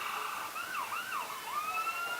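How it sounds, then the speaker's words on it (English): A wailing siren sweeps up and down in pitch at a high school football stadium after a touchdown, sounding steady and somewhat distant across an open space. "Sirens sounding here at Northmor"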